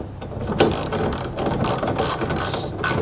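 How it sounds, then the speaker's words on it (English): A hand ratchet tightens a nut on a truck bed ladder rack, rapid repeated clicking pawl strokes in short bursts, close and clear with no talking. "go ahead and just grab a ratchet"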